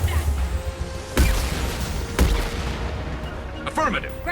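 Gunfire during a Mass Effect 2 Legendary Edition firefight on PS4, with two heavy, booming shots about a second apart, then a quieter, crackling burst near the end over a low background hum.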